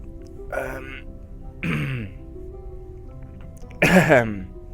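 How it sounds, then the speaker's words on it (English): A man coughs and hacks in three separate harsh bursts with short pauses between them, close to the microphone and loud, with a throaty, clearing quality. "now that I can speak and that I finished coughing my guts up"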